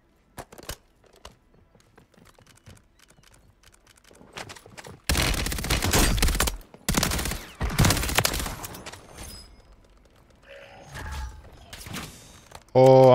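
Gunfire in Call of Duty Warzone on Rebirth Island: scattered faint shots early, then several loud heavy bursts and cracks in the middle, followed by clattering mechanical sounds and a voice near the end.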